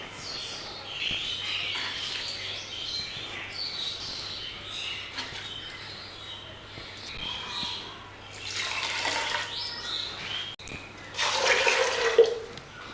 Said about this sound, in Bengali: আমি কিন্তু এখানে এই বাটি 3 বাটি জল দিয়ে দিলাম।